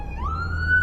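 An ambulance siren wails past on the road, heard from inside a moving Nissan 350Z, its rising tone climbing and holding steady over the car's low engine rumble for under a second.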